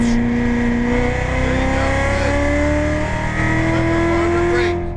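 A Corvette C7 Z06 engine pulls hard on a race track, a loud, continuous in-car roar with pitch climbing steadily through the gear as the car accelerates, faint tire noise underneath.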